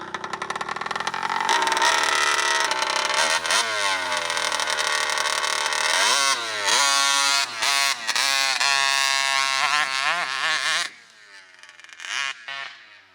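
An RCMAX 80cc gas engine on a Raminator RC monster truck runs at high revs with a loud, buzzing two-stroke whine that rises and falls in pitch as the throttle is worked, then drops off sharply near the end, with no voices.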